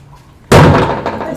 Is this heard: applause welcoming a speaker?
no